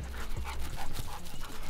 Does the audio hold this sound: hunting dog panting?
yes